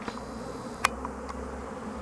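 Honeybees buzz in a soft, continuous drone close by at a hive entrance, with a brief sharper buzz as one flies past.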